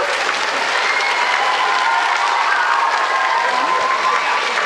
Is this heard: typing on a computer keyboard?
no